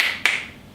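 A single crisp finger snap from an audience at a live music performance, short and sharp, followed by a quiet fading tail.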